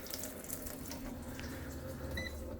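Water from a reverse osmosis filter system runs steadily into a container as a sensor is lowered in, a continuous close hiss and trickle with a brief electronic beep near the end.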